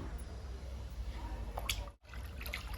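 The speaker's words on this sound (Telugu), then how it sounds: "ఇచ్చేద్దామండి లిక్విడ్ని ఒక్కొక్క మొక్కకి" Ajwain leaf liquid poured onto indoor potted plants, heard as faint dripping and short trickling splashes over a steady low background hum, with a brief hush partway through and no talking.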